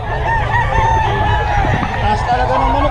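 Roosters crow and cluck at a crowded gamefowl market, loud and continuous amid overlapping bird calls, with people talking in the background.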